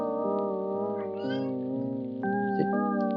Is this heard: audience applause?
no